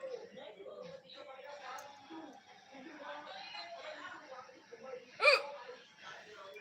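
One person's hiccup after eating spicy chili gives a single sharp burst late in the stretch, rising above steady nearby chatter.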